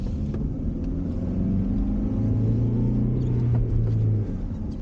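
A 2004 Honda CR-V with a manual transmission drones and rises in pitch as it accelerates, a steady low rumble heard from inside the cabin.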